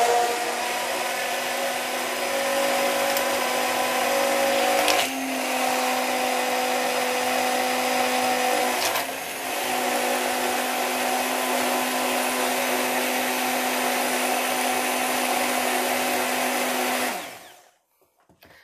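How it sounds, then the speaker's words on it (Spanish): A kitchen machine grinds sugar for crepes with a loud, steady motor whine that runs for about seventeen seconds, with brief dips in pitch along the way, before it winds down and stops. "Ahora vamos a poner la máquina y la vamos a triturar."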